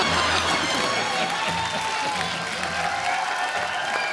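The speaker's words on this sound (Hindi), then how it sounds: "जोरदार तालियां स्वागत कीजिए।" A studio audience on a Hindi television comedy show applauds and cheers to welcome a guest onstage, a dense, steady wash of clapping with crowd noise and some voices mixed in throughout.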